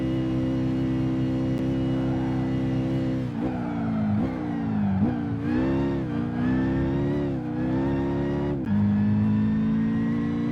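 A fast car's engine in Gran Turismo 5 roars loudly and steadily, revving up through several gear changes with a brief dip and surge near the end, with no talking.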